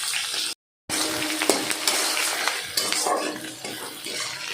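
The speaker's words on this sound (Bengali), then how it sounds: "পেঁয়াজ কুচি আর ক্যাপসিকাম কুচিগুলো দিয়ে দিলাম। পেঁয়াজ কুচি ক্যাপসিকাম কুচিগুলো হাফ ভাজা হবে" Chopped onion and capsicum sizzle in a pan, a continuous frying hiss broken by clinks and scrapes of utensils against cookware, with a brief dropout early on.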